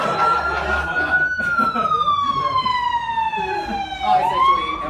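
A wailing ambulance siren sweeps slowly downward in pitch, then rises again, loud and close, over a background of traffic and indistinct voices.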